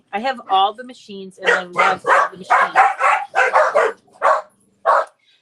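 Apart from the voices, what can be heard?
dog barking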